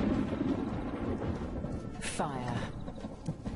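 Distant thunder rumbles low and continuous beneath a storm over dry grassland, with a brief sharper crack partway through, under a voice speaking.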